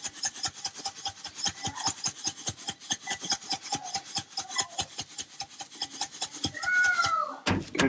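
A shaker dusts ground Hot Cheetos rub all over a tri-tip, producing a fast, even run of close, gritty rattling shakes for several seconds, ending with a short clunk.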